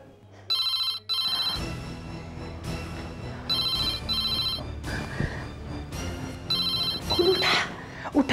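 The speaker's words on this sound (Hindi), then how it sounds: "उठा उठा फोन, फोन उठा, उसे पूछ तो सही वो क्यों नहीं आया।" A telephone rings in repeated electronic bursts, loud and close, while people talk over and between the rings.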